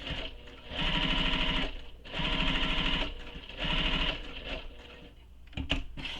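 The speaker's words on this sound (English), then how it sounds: "we're going to stitch all the way around all 4 sides and to baste it in place" A sewing machine runs a long basting stitch around the sides of a tote bag's layers in three distinct bursts with short pauses between, followed by a few brief mechanical clicks.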